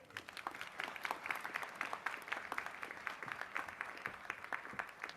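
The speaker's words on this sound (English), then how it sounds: "Can we have a big round of applause for him, please?" Applause for an ambassador at an online hospitality institute expert session, a steady patter of many hands clapping at once, faint and distant, holding evenly throughout.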